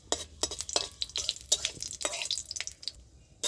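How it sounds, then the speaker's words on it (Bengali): Panch phoron and dried red chillies crackle in hot mustard oil in a kadai, giving quick irregular pops and sputters with short quiet gaps between them. "তেলটা গরম হয়েছে, এর মধ্যে 5 ফোড়ন আর শুকনো লঙ্কা দিয়ে দিচ্ছি।"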